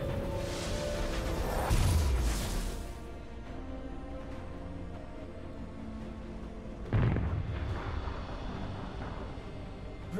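Turret destroyed in League of Legends: two deep booming explosion blasts about five seconds apart, each with a crackling burst and rumbling decay over continuous game background sound, with no talk.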